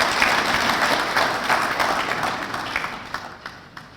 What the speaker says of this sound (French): Je vous prie d'applaudir ce grand monsieur,